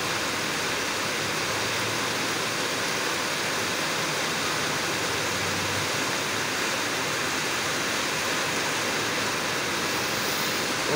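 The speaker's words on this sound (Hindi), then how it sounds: "बहुत ही तूफानी किस्म की बारिश हो रही है" Heavy stormy rain pours steadily in Karachi, a dense, continuous broadband hiss like a downpour or waterfall that holds at an even, fairly loud level from start to finish with no voices.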